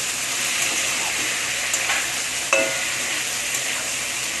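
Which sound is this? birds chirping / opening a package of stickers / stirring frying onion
stirring frying onion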